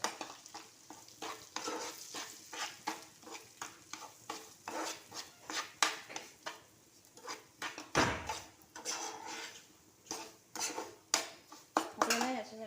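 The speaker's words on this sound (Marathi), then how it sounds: "आता हा रवा घेतला आपण, तो आपल्याला हा तुपावर खरपूस असा भाजून घ्यायचा आहे" Semolina (rava) roasted in ghee and stirred in a pan for mango shira, heard as rhythmic spoon scrapes and clinks against the pan over a soft frying sizzle, fairly quiet throughout.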